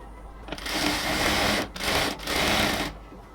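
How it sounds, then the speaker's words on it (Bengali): A sewing machine stitches the elastic waistband of a cotton salwar in two fast whirring runs separated by a brief pause, close and steady, with no talking. "এবার পুরো কোমরটার মধ্যে আমরা সেলাই করব, বাট হচ্ছে ইলাস্টিকের পাশ দিয়ে"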